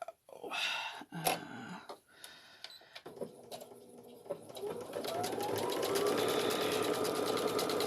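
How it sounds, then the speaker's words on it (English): Sewing machine stitching the final two sides of simple fabric pattern weights, a steady whirring stitch run that builds to a loud continuous drone after several short stops and handling noises. "we're going to stitch the final 2 sides, but we're not going to stitch all the way along"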